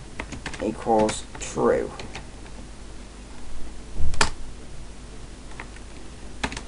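Close, quick clicks from a computer keyboard while code is typed, scattered in short bursts with someone speaking briefly over part of it.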